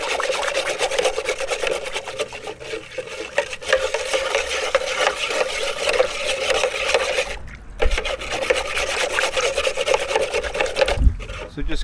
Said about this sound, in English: let's just take the wand, give that a good mix